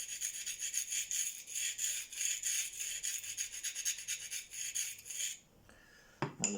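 Knife blade stroked by hand across Venev diamond stones, a rapid steady run of close, bright rasping strokes for several seconds, then a pause and a couple of light clicks.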